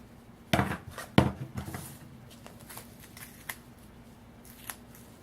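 Scissors snip through a strip of green material for a handmade expandable notebook, two quick crisp cuts up close followed by faint rustling and handling sounds.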